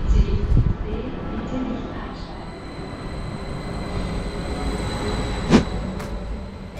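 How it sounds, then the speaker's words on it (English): BLS regional express train on the Bern-Lötschberg-Simplon railway, a steady rumbling ride with faint rail noise, brief clanks and one sharp screech, with a voice speaking over it. "Now I'm going to be travelling on the regional express train, which is the classic Bern-Lötschberger Simplon railway."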